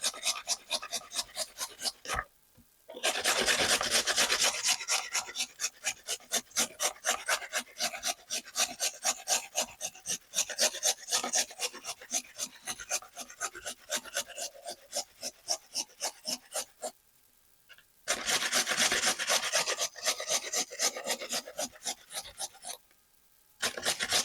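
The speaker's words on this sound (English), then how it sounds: "And back to grating." Food rasped on a grater while preparing a sauerkraut salad to go with a Sunday pork loin roast, a close, steady run of quick scraping strokes in two long bursts split by short pauses, with no talking.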